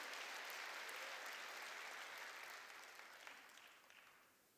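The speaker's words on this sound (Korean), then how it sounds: "박수로 하나님께 영광 돌리라" Church congregation applauding during a Korean sermon, a broad steady wash of clapping that holds strong and then slowly thins out toward the end.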